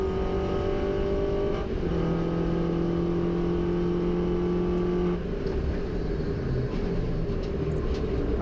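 A 2018 Mini Cooper S race car in the Mini Challenge at Donington Park is heard flat out from inside, the engine revving loudly and holding high pitch before a gear change drops it and it climbs again.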